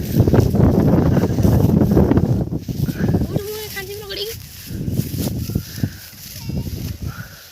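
Outdoors during kite flying with children, wind gusts buffet the microphone in loud, rough rumbling bursts while people talk and call out over it.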